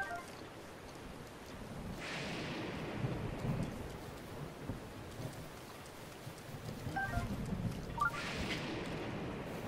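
Steady rain hisses throughout in the video game The Legend of Zelda: Breath of the Wild, with low rumbling thunder rolling beneath it and swelling in brief bursts; no voices.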